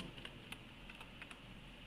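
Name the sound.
typing on a computer keyboard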